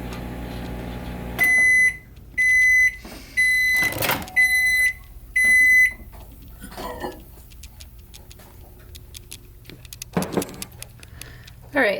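A microwave oven heating food in one-minute bursts gives a low hum, then a run of about five evenly spaced, clear electronic beeps, followed by quieter kitchen handling noises and a few sharp clatters.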